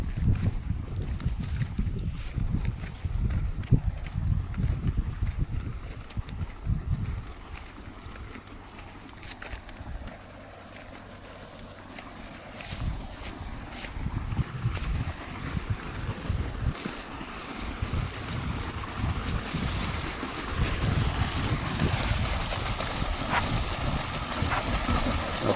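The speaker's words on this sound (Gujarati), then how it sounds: "તમને પહેલાં હું મારી મોટરનું પાણી બતાવી દઉં." A farm water pump motor runs with a continuous low, rumbling drone, and water gushes into an irrigation channel, producing a steady rushing wash that swells and eases slightly over the long stretch without speech.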